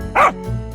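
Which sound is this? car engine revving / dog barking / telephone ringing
dog barking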